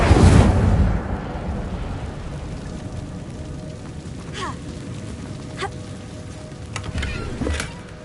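Incendio fire spell cast in the Hogwarts Legacy video game: a loud whooshing burst of flame at the start fades into a crackling, sizzling burn, with a few faint sharp ticks and chirps afterward.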